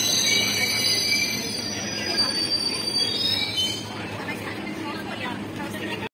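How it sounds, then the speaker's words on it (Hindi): A metro train pulls into a station with loud, steady squealing wheels and rumbling carriages, the sound easing slightly toward the end; people can be heard talking under the noise. "अब एक और मेट्रो आने वाली है"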